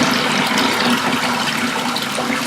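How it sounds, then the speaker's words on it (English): Water pouring steadily into a container, a continuous bright splashing rush lasting a few seconds at close range, with no talking over it. "I'm gonna pour some water so I feel more comfortable."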